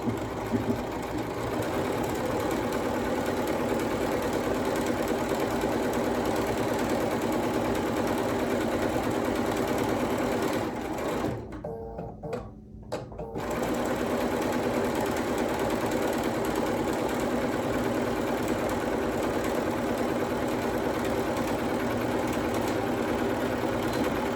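A sewing machine stitching quilt fabric runs with a steady, close mechanical whir and rapid needle chatter, pausing briefly about halfway before resuming at the same pace.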